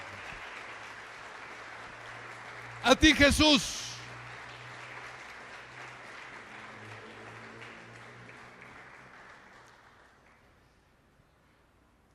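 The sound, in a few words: audience applause for Jesus in church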